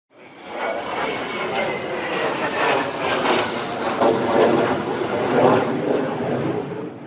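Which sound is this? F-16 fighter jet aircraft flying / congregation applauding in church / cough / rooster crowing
F-16 fighter jet aircraft flying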